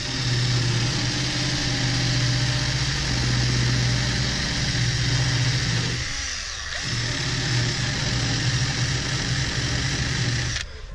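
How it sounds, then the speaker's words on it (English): Power drill or grinder spinning a wire wheel to strip paint from a ground mount surface, a loud steady whine held throughout with a brief dip in tone near the end. "we're going to clean it with a wire wheel, because it's really not that nice"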